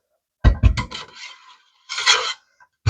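A soap mixture is stirred in a container, giving short, close scraping and rasping strokes in a quick burst, then a pause and one longer scrape.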